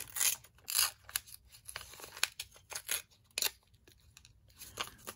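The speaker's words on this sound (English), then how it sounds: "we can trim the edges" Scissors trim the edges of a paper collage in a series of short, close snips and crisp paper rustles, irregularly spaced, with no talking.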